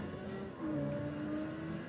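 A powerful motorcycle accelerating along a straight, its engine note rising in a steady whine, heard faint and muffled from on board.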